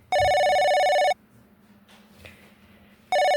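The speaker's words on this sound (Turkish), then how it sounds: "Kuzey telefonu çalıyor." A telephone rings in a house: a loud electronic ring lasting about a second, a pause with faint background noise, then the ring starts again.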